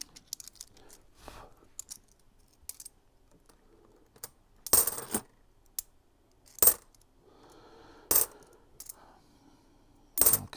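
Australian fifty cent coins are handled and dropped, with sharp metallic clinks and jingles arriving in separate bursts amid quiet stretches, no talking.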